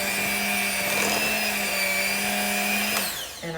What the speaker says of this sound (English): I just got out my little hand mixer and did a quick little stir like this